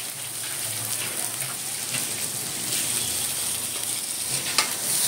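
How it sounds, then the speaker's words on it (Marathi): Chopped onion frying in a pan with garlic and green chilli for a fenugreek (methi) bhaji, a steady close sizzle and crackle with no talk throughout. "चांगला फ्राय करून घेऊया कांदा"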